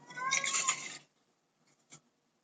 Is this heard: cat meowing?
yes